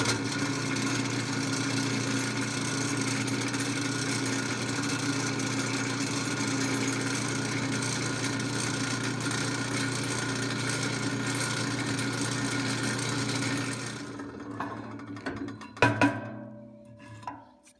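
A power drill whines at a steady pitch for a long stretch drilling holes for a bandsaw roller stand, then winds down into scattered clanks and clicks of metal.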